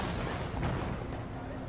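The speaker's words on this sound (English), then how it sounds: "cell phone video captured a drone exploding in midair" A drone explodes in midair above a military parade in Venezuela, heard as a short, loud, blunt blast with dense rumbling noise filling the brief moment, likely captured on a cell phone.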